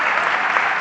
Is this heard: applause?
yes